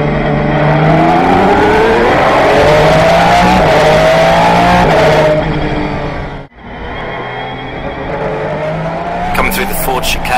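Aston Martin LMP1 car number 009 at the Le Mans circuit heard onboard, a loud engine screaming up through the gears with downshifts and a brief cut, while a driver talks over it throughout.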